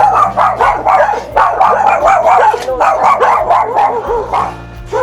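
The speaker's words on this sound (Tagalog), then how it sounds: "kasi baka may aso dyan, Nok eh" A dog barks repeatedly and loudly up close in a rapid, steady series, with some whiny yips mixed in.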